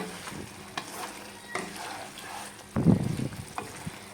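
Drumstick stems simmer and fry in a pan with sun-dried lentil dumplings, giving a soft, steady sizzle and a louder stirring clatter near the end.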